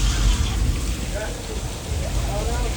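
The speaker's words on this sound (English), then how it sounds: "We can cut the rain." Artificial rain from a theme park sprinkler system hisses in a steady, loud wash of falling water, with faint voices underneath.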